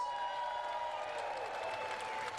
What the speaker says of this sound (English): this next applause better be louder than that one